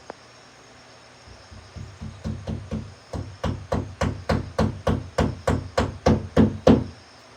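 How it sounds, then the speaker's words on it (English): A wedge being hammered into a wall in an old Japanese house, a steady run of about fifteen sharp knocks speeding up and growing louder, close and alone. "Great satisfaction in hammering into your own damn wall."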